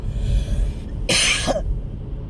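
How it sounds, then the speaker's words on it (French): A single sharp cough from a sick woman bursts out over a low background hum, brief and close, followed by quiet room noise. "Moi, je suis désolée si je tousse"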